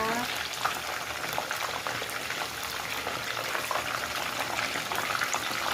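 Dolly fish deep-frying in hot oil, a steady, dense crackling and bubbling sizzle that holds at an even level throughout, close and fairly loud with no break.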